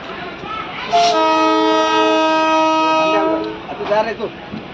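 A DEMU passenger train departing Hanumapuram station sounds a long, loud, steady horn blast of about two seconds over engine rumble, then brief voices and clatter follow.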